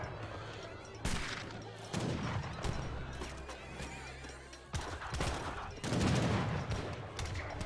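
Skirmishers fire musket volleys in an Age of Empires 3 battle, with sharp crackling gunshot bursts over a busy backdrop of clashing combat and horse whinnies, partly under a voice commenting on the match.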